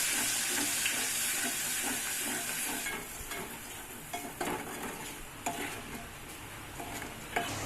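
Ginger-onion paste fries in a pan for a gongura chicken dish. A steady, hissing sizzle is heard close up, with occasional stirring knocks and bubbling.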